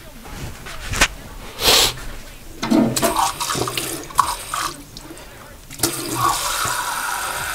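Water poured and measured for cooking sushi rice in a rice cooker, splashing in several short bursts with brief tap-like rushes and clatters, close and fairly loud.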